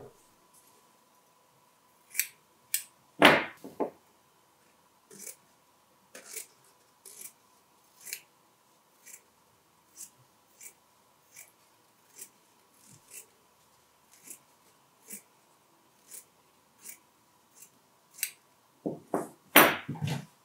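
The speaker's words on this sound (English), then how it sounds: "So now that we have our fabric trimmed evenly around the hoop" Scissors trimming fabric around an embroidery hoop, a long series of crisp, evenly spaced snips close up in a quiet room, with a faint steady hum behind them and a brief rustle of cloth near the start and end.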